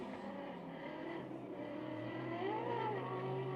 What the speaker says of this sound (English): you can hear the revs going up on the McLaren